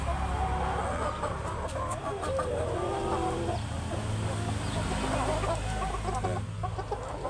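Kabir breed RTL hens, eight ready-to-breed birds around five months old and about 3 kilos each, cluck steadily on a farm, a busy layered flock noise with low background rumble and no talking.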